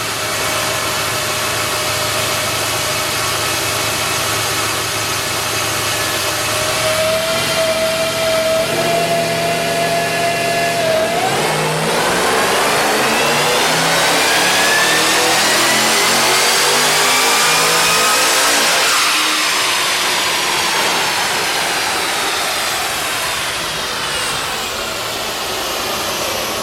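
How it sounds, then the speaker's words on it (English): A 720 rear-wheel-horsepower Holden VE Ute engine runs loud and steady on a dyno, then climbs sharply in pitch as it revs hard through the gears before easing back down. "So let's do a dyno run and see how we are."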